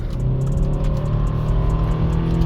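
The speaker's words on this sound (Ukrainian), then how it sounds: "Пробуємо розгін від нуля до сотні" A 2018 Subaru Outback Limited 2.5 with automatic transmission accelerates from a standstill to 100 km/h, a steady, loud engine drone with road rumble heard from inside the cabin, no talking.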